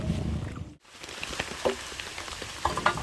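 Steady rain pattering on surfaces outdoors on a farm, a soft continuous hiss with scattered drop ticks, moderately close and no speech.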